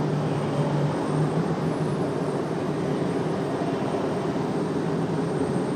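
FedEx cargo plane coming in to land at Raleigh-Durham International Airport, a loud, continuous engine roar held steady throughout, with no talk.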